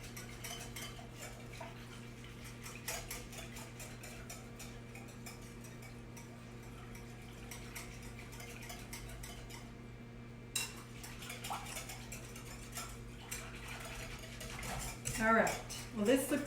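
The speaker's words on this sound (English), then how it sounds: "So I'm going to be whisking this together." Dinner roll ingredients are whisked together in a bowl, producing steady, continuous scraping and clinking under a low background hum, with a few louder knocks near the end.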